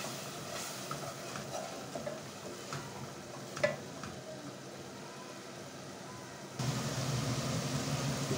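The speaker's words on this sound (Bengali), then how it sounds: "মশলাগুলো কষিয়ে নেব" Spices and chilli, both dried powder and fresh green chilli, frying and stirring in a pan for a Sylheti greens curry, giving a low steady sizzle with light spatula scrapes that swells louder near the end.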